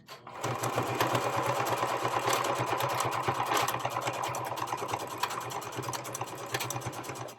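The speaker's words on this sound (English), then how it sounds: "You're going to put your needle down, okay? Then you're going to do a back stitch forward, and you're just going to go back and forth." Sewing machine back-stitching fabric for an ironing board cover, a steady close mechanical whirring with a rapid needle rhythm running continuously for several seconds.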